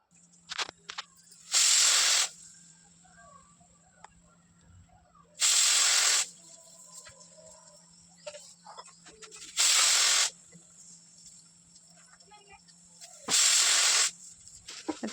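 A home pressure cooker making wheat payasa lets out four loud bursts of hissing steam whistle, each about a second long, at steady intervals, with quieter kitchen clatter and a faint background hum between them.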